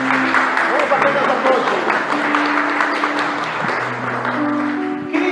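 A church congregation applauds after a scripture reading, a loud sustained clapping with voices and music tones running beneath it.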